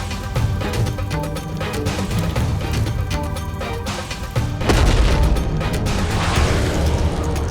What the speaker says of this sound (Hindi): ये कैसा विस्फोट हुआ वहां पर?